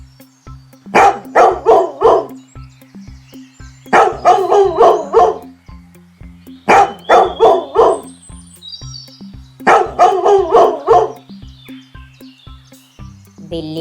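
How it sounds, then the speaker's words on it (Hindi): Several dogs bark in short rapid bursts, four loud volleys spaced a few seconds apart, over a steady background chirp of crickets, with no one talking. "बिल्ली को कुत्तों ने देख लिया और उसके पीछे भागने लगे।"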